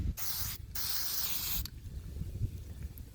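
Plastidip spray can hisses over a car's rear splitter in two close bursts with a short pause between them, followed by quiet rustling.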